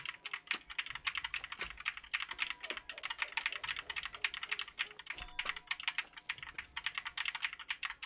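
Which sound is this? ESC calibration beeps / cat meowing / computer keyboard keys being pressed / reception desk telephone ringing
computer keyboard keys being pressed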